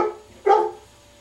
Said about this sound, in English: Yes, I hear you, dog.